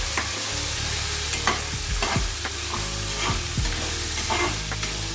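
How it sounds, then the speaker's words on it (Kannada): Chopped raw papaya for pulao sizzling in a hot pan, with repeated scraping strokes of a spoon stirring the pieces, close and loud with no one talking. "ಪಪ್ಪಾಯಿ ಹೆಚ್ಚಿಟ್ಕೊಂಡಿದ್ನಲ್ಲ ಅದನ್ನು ಹಾಕ್ತಾ ಇದ್ದೀನಿ"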